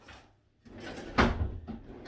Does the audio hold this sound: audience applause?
no